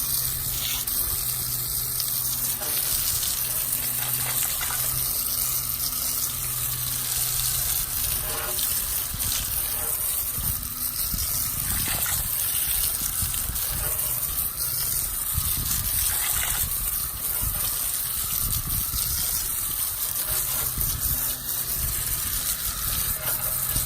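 Water gushes steadily over a car wheel during a hand wash, a continuous broadband rinse spray running unbroken from start to finish.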